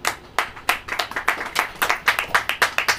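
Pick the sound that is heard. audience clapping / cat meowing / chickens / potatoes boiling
audience clapping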